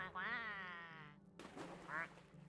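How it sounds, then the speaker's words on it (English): Two nasal quacks from a duck-like character in the video game Daemonologie, a long warbling one followed by a shorter one after a pause, with faint background sound between. "makes a different duck noise"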